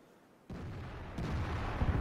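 An FV3805 artillery piece fires in World of Tanks with a sudden heavy boom, followed moments later by a second blast that leaves a loud, rumbling roar hanging over a short burst, with no voices.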